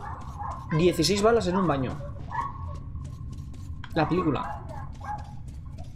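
Dog barking in the video game Metro: Last Light, several loud whimpering barks in two bursts over a steady game background, with someone talking over it.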